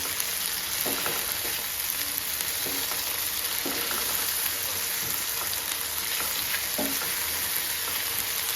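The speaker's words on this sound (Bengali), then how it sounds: "দিয়ে এটাকে একটু নেড়ে চেড়ে নিতে হবে যতক্ষণ না পর্যন্ত আদা রসুনের কাঁচা স্মেলটা চলে যায়।" Ginger garlic paste fries in oil in a pan with a steady, loud sizzle, while a spoon stirs it with soft scraping taps throughout.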